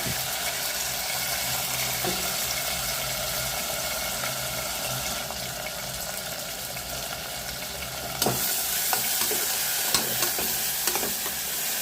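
Onions and tomatoes sauté in a pan for biryani with a steady, moderate sizzle and a few stirring scrapes that grow slightly louder near the end.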